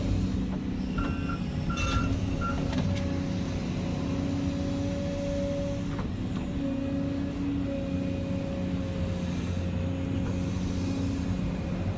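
A Volvo 220E excavator's diesel engine drones steadily and loud while the machine drives, a constant rumble heard from the cab with faint clicks and tones mixed in, no talk.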